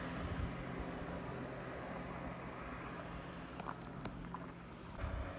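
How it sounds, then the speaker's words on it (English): A distant motorboat on a lake drones steadily across open water, a low continuous engine rumble with wind noise and a few faint clicks. "Here comes a boat. You can hear it."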